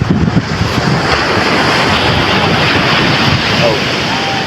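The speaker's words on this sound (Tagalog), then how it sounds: "Sarap pagmasdan yung mga ganitong alon." Loud, continuous surf of ocean waves rolling in close by, with heavy wind buffeting the microphone throughout.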